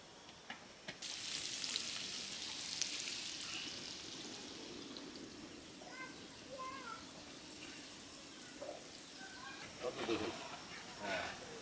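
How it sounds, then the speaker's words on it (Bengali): River fish from the Tentulia fry in a pan, giving a faint steady sizzle with bursts of hiss, while people talk nearby. "বৌমায় যে মাছগুলো ভাজছে দেখেন তো কত সুন্দর লাগে তেঁতুলিয়া নদীর মাছ"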